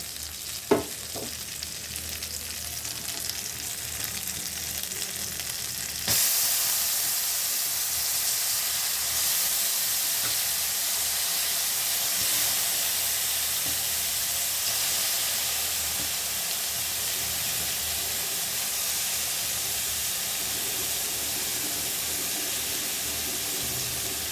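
Soaked dal tipped into a hot pan bursts into a loud, steady sizzle and hiss that carries on for many seconds, preceded by a few brief clatters.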